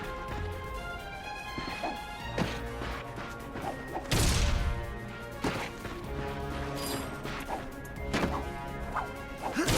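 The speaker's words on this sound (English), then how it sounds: "Look at him smashing crates." Crates smash in the Ratchet and Clank PS4 remake, with several sharp breaking thwacks, one loudest burst near the middle, over a continuous game music and effects bed.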